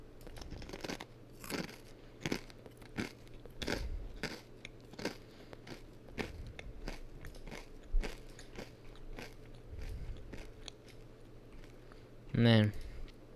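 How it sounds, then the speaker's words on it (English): Someone munches on a Cracker Barrel snack close to the mic, with repeated crisp crunches and bites spread across the stretch and a short burst of louder noise near the end. "Oh, I got Cracker Barrel. Now you're gonna hear me munching for the rest of the"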